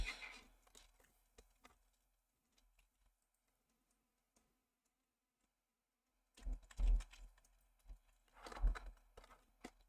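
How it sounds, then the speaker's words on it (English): Keys clatter on a computer keyboard in short bursts, a flurry at the start, then near silence, then a busier, louder run of close taps toward the end. "Let me go ahead and type that in chat."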